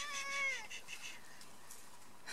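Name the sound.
cat meowing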